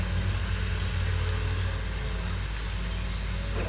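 A Komatsu PC210-10 excavator with a Cummins diesel engine runs at a steady idle, a low continuous rumble with a constant hum, fairly quiet and without talk.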